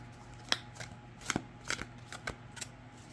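Overhand shuffling of a Rider-Waite-Smith tarot deck, a series of soft, crisp card slaps and riffles at uneven intervals, close up and fairly quiet with no talking.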